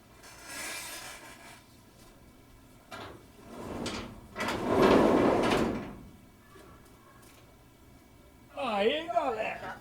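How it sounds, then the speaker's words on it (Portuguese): A door in a drywall-built structure being opened and closed, giving a few rattling, scraping bursts including one longer loud sweep, followed by a short creaky squeal near the end. "Vocês viram o barulho da porta aí?"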